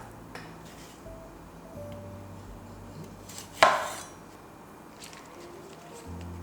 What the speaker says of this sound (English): Cut up some tomatoes. I'm using cherry tomatoes here